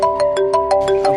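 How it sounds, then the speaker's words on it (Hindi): A phone ringtone chirps loud and close in a quick repeating electronic pattern of bright tonal pulses, heard alone. "अब ये फोन कौन कर दिया?"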